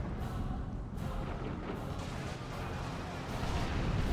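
Manticore artillery strike in Dawn of War II, a dense rumble of explosive impacts and crashing blasts, steady and loud throughout with several sharper hits layered over continuous battle noise.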